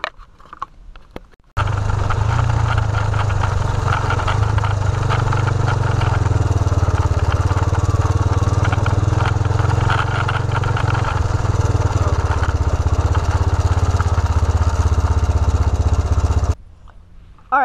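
A small engine runs steadily at close range for about fifteen seconds, a continuous buzzing drone that starts and stops abruptly, with no voices.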